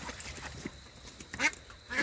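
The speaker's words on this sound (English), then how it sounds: "They're good ducks." Ducks quacking in short, scattered calls, fairly close, with a couple of louder quacks standing out against quiet background noise.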